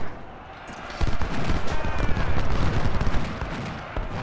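Massed rifle and cannon fire in the Civil War strategy game Ultimate General: Civil War, Hanover Courthouse battle: a dense, continuous crackle of distant musketry with booming reports, swelling after a quieter opening.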